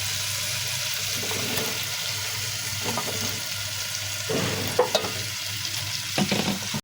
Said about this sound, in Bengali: আমার মশলা কষানো হয়ে গিয়েছে এখন আমি এখানে দিয়ে দিব কেটে রাখা আলু